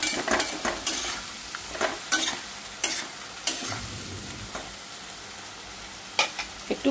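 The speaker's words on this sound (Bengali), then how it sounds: "ভালো করে মশলাটা একটু এই পনিরের সাথেই কষিয়ে নিচ্ছি" Tomato, ginger-garlic and spice paste sautéing with paneer in a pan, steady sizzle broken by repeated scraping stirs and clinks of a spoon, close and fairly loud with no voices.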